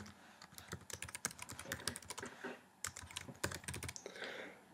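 Rapid keyboard typing at a computer, dense bursts of clicky keystrokes with brief pauses, close and fairly quiet.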